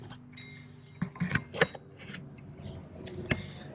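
A metal Hinson clutch basket is set down into a motorcycle clutch housing, giving a few sharp metallic clinks and knocks with small scraping sounds between them, close up and otherwise quiet.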